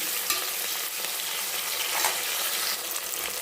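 Green chillies and curry leaves fry in a pan for a cabbage and chana dal curry, a bright, steady sizzle close by with light scrapes and clinks of stirring, no voices.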